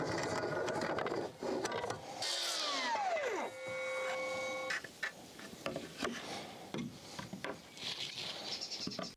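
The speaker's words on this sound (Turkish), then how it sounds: "İşaret aldığım yerden 45 derece açıyla kesiyorum." A power saw makes a 45-degree cut through wooden deck boards on an octagonal gazebo floor. The blade whines, spins down to a stop, then light clatter and handling knocks follow close by.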